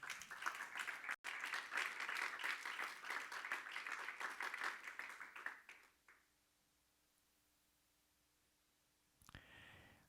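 A church congregation claps its hands together in loud, sustained applause for about six seconds, then the sound drops away to near silence before a brief swell at the end.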